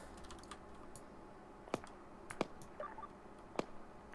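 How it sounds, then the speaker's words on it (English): Faint, sparse clicks of a radio being keyed in the military game Arma 3, a handful of dry ticks spread unevenly over a quiet background hum. "I hear someone clicking away on their radio."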